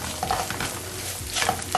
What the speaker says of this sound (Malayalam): ഇതുകൂടെ ചേർത്ത് നന്നായിട്ട് ഇത് വഴറ്റി കൊടുക്കാം